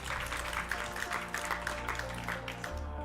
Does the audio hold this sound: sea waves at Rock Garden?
no